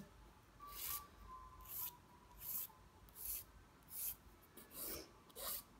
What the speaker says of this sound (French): vous limez jusqu'à temps que vous ayez la forme que vous souhaitez